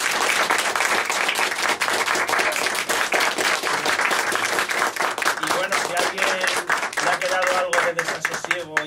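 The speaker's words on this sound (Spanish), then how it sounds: "Lo que sí quiero decir es pedir un aplauso, pero que no sea un aplauso normal, sino que sea el doble" Audience applause at a book presentation for the novel Tras la sombra del insomne, a dense, loud, sustained burst of clapping from a crowd that continues throughout, with some voices mixed in toward the end.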